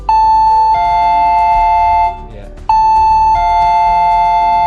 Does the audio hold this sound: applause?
no